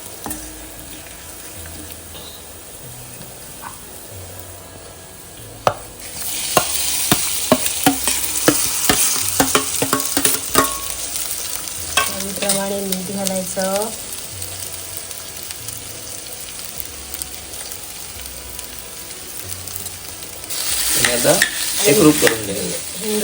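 Tempering (phodni) frying in a pan for a village-style egg curry, with asafoetida going in: a quiet start, then a loud burst of sizzling and crackling with sharp pops and stirring that eases and swells again near the end.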